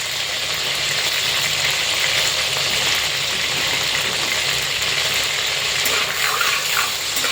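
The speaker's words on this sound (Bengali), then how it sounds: "আমি এখন এই ধুন্দুল ভাজা তেলের মধ্যে দিয়ে দিচ্ছি এক চামচ জিরা করে" Cumin and black cumin seeds frying in hot oil with ridge gourd for a chicken curry, a loud, dense hiss that holds steady throughout.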